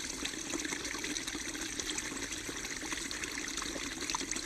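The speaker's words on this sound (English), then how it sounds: "to receive the resilient sound of water." Steady broadband water sound, continuous and even like a trickling stream or gentle pour, with no voices over it.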